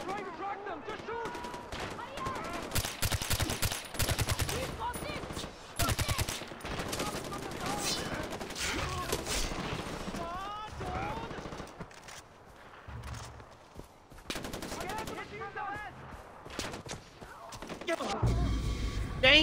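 Gunfire from hunters in the video game Far Cry 4, bursts of rapid shots and single reports running through the scene, mixed with shouted voices and game action.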